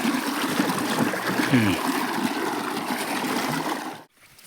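Water from a pond-side motor pump flows into a farm field, a steady close rushing trickle and gurgle that continues without talk, then cuts off abruptly near the end.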